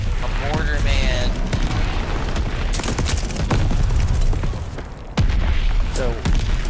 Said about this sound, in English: My mortars are fucking shit up.